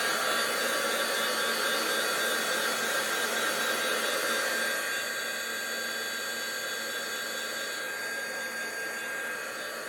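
A hair dryer blows continuously and loudly throughout, drying a gilding craft project with flakes and butterflies, its steady whooshing roar shifting slightly in tone partway through.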